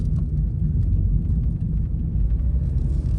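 A Toyota GR86 in regular drive mode heading onto a highway gives a steady low engine and road rumble, close and continuous, with no talking.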